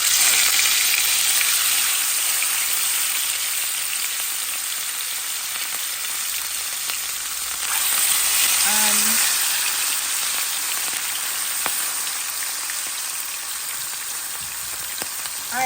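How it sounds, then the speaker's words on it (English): Red snapper frying in very hot olive oil in a pot, giving a loud, steady broadband sizzle that runs throughout with brief faint clinks and a short voice partway through. "the fish is snapper, red snapper fish. And I am frying it in olive oil"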